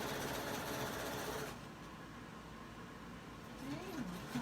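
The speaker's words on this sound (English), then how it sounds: "we're coming up on the end of the stitching" A sewing machine runs stitching a knit V neckline, a continuous faint motor whir that eases slightly partway through, close by and quiet.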